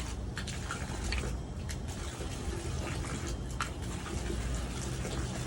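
A pump in a closed-loop water air-conditioning system aboard a 61-foot Hatteras yacht circulates water while air is bled out, giving a faint, steady watery hiss with light trickling and a few small ticks.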